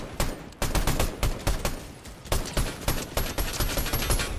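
Gunfire in the video game Fortnite crackles in rapid automatic bursts, loud repeated volleys with short gaps between them, running continuously with no voices.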